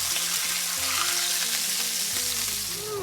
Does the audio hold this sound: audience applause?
no